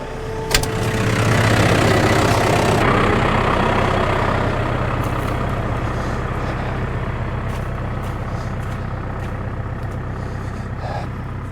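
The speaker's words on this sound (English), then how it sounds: "Let's get the skid steer." A skid steer loader engine starts up and settles into a steady, rumbling diesel idle, close and continuous, with a few faint clanks in the background.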